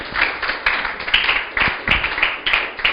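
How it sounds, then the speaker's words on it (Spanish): Church congregation clapping in a rhythmic worship pattern, a roomful of hands beating roughly two claps per second, loud and lively with no talk over it. "Aplauda al Señor"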